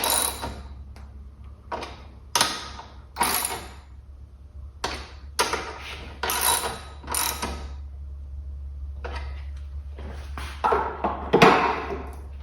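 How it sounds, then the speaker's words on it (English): Wrench or socket tightening 13 mm bolts while fitting a rack to a Honda CB500X motorcycle, heard as repeated bursts of metallic clicking and ratcheting separated by short pauses, close and fairly loud over a steady low hum. "Now these new bolts have a 13 millimeter head, so you'll need another wrench or socket for this."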